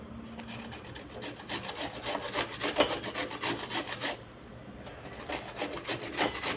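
Amla (Indian gooseberry) grated on a hand grater makes rhythmic rasping strokes, close and fairly quiet, repeating steadily with a brief pause partway through.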